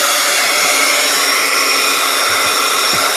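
A hair dryer blows continuously at close range, a loud, even whoosh used to dry watercolor paint, with no talk over it.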